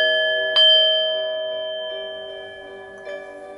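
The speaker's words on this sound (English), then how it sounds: "I have the sound bowl, which just accents what the bell does." A bell and a sound bowl are rung during a tarot reading, giving a sustained metallic ring that slowly decays. A second soft strike comes near the end, with no talking.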